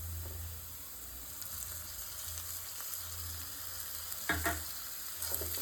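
Carrot and tomato fry in a pan as part of a pasta sauce, giving a low, steady sizzle with a few brief scraping stirs near the end.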